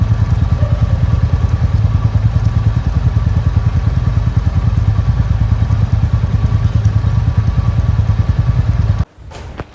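A Royal Enfield motorcycle engine idles steadily and loudly up close, a continuous thumping putter that runs unbroken before cutting off abruptly near the end, leaving quiet ambience.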